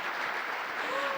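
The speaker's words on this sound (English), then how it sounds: "I think he deserves a big round of applause" Audience applause at a live fireside chat event, a steady dense patter of clapping from a seated crowd, fairly soft, with a faint voice rising through the end.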